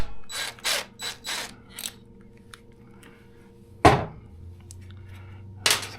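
Ratchet wrench clicking in quick bursts while backing out a 10 mm valve bolt on a 2024 Suzuki DR 650 during an evap unit delete, several loud close ratchet runs then a sharp clank, no talk.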